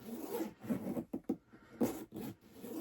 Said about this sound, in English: let's see if that makes a difference with the zipper working.